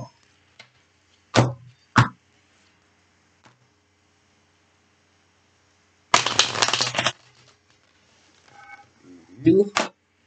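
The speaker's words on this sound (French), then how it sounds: "Je vais faire 3 coupes pour bien mélanger." Tarot cards being shuffled and cut for a reading, heard as a few sharp, close card snaps, then a longer riffling shuffle, then more card handling amid quiet pauses.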